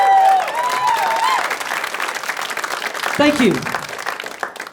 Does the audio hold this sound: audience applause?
yes